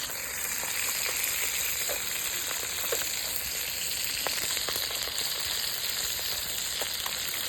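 A whole fish fries in a pan with a dense, steady sizzle that stays loud and continuous throughout, with small crackles popping through and no voices.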